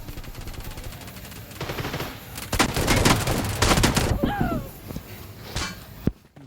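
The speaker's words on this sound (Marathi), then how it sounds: "कुठून गोळी चालली का ते कळते का?" Gunfire rattles in the mobile shooter Battlegrounds Mobile India: rapid bursts of shots build to a loud, dense stretch, then fade to a few isolated bangs, with players talking over them.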